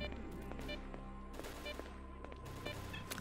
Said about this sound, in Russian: Слышишь выстрелы?